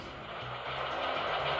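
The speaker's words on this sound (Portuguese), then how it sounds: "eu estou com a locomotiva parada, vou ligar o som dela." An MTH model train locomotive's Proto Sound system, switched on while the engine sits stationary, gives a steady mechanical idling rumble with faint clanking, rising slightly in loudness over a short stretch.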